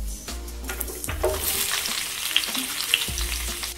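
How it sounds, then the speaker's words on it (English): Sliced green bell pepper, carrots and green onions sauté in a hot pan, with a loud, continuous sizzle and the scrape and clatter of stirring close by. "Now I'm going to saute it."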